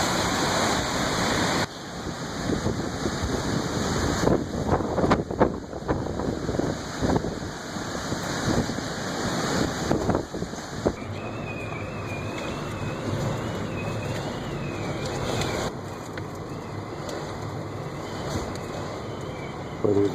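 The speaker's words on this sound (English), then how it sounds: "We're getting some major wind here now." Strong winds of Hurricane Odile roar continuously in Cabo, a dense broadband rush with gusting surges and rain-like hiss buffeting the microphone throughout, loud and without talk.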